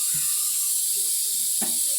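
Steady high hiss of steam venting from a pressure cooker that does not whistle, continuous throughout, with a couple of faint low knocks and a brief clatter near the end.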